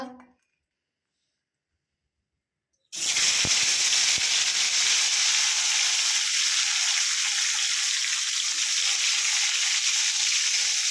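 Round potato slices frying in a pan give a steady, loud, close sizzle that starts abruptly after a few seconds of silence and continues unbroken, with a couple of faint knocks early on.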